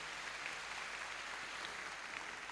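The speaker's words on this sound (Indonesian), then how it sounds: "Berikan tepuk tangan yang meriah." A church congregation applauds during a sermon, a faint, steady wash of many hands clapping at an even level throughout, with no talking over it.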